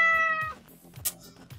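A cat in the video game Pumping Simulator 2 gives one short, clear meow at the start, followed by soft clicks and small thuds.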